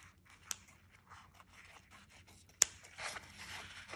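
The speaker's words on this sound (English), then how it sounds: "Start by cutting the bread into small pieces. This is Lebanese bread, and we're cutting it" Scissors snip Lebanese bread into strips, giving faint, close, crisp cuts with a few sharper clips and light rustling in a quiet kitchen.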